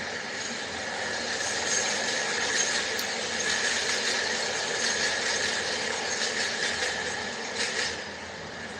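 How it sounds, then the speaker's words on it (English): A train rolls past close by, a steady, loud rumble and rattle of railcars with metallic clatter and squeal, holding constant throughout with no talk. "hold on, this train going by"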